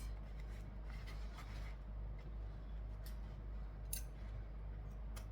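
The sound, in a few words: scissors trimming vinyl tails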